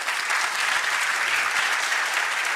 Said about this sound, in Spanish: un aplauso en esta etapa